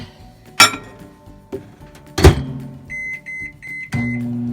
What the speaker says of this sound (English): we're just gonna set it in the microwave